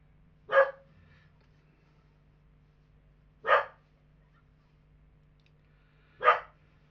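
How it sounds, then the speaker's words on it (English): An indoor dog barks three times, single sharp barks spaced a few seconds apart over a quiet room hum, reacting to someone outside. "Sorry about the dog, he's heard somebody outside."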